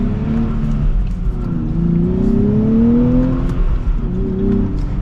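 A 2024 Nissan Z Performance sets off and accelerates, its engine note rising smoothly through a gear with a brief dip at a shift, then climbing again, heard loud and close from inside the car.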